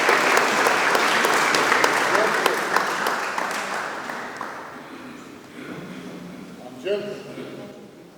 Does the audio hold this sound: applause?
yes